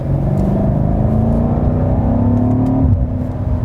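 A 2018 BMW M5 F90 engine revs hard under acceleration, a loud, steady rising drone that climbs in pitch, then drops sharply as it shifts up, heard alone without talk.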